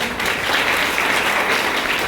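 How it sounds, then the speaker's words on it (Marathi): Loud, dense applause from a crowd at a charitable trust felicitation event as a police constable is called forward, sustained and even clapping filling the whole moment with no pauses. "जोरदार टाळ्या झाल्या पाहिजेत"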